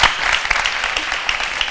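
Studio audience on a French midday TV set gives a burst of sustained applause, dense clapping running steadily throughout at moderate loudness with no voices over it.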